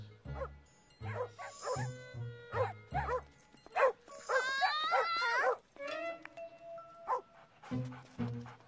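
Animated dogs at a park bark in sharp, repeated bursts at the start and again near the end, with drawn-out whimpering whines in between; a voice talks briefly among them.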